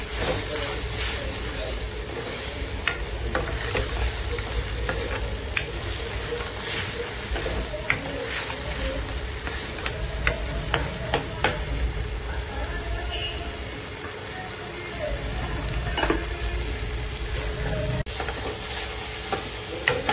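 Salted masala for a thin pea curry fries in a pan, with continuous sizzling and repeated scraping stirs close by, the spoon clicking against the pan now and then, and a voice talking at times over it.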